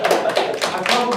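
Applause from a small audience at a Toastmasters meeting, a brief burst of close hand clapping with uneven rhythm, moderately loud and filling the short moment.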